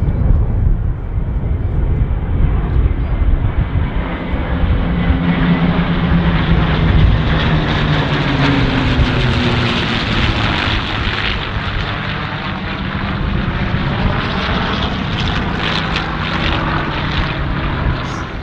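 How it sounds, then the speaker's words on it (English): Four P-51 Mustang warbirds in finger-four formation pass at an airshow, their propeller engines swelling into a loud droning roar that rises and sweeps by steadily. "here come the first 4 Mustangs"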